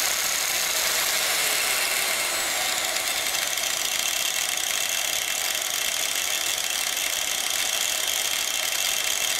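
A variable-speed disc grinder runs at maximum speed, giving a loud, steady, high-pitched whine that holds without a break, close up and with no speech.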